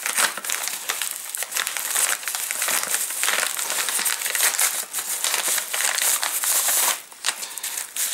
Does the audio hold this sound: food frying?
no